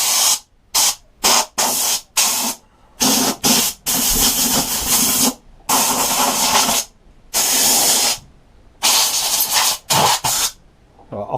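Compressed air line blowing dirt out of a long-unserviced McCulloch lawnmower with a Briggs and Stratton engine, loud close hissing bursts of varying length separated by short silences.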